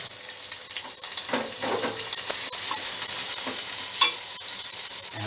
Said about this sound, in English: I have added the onion.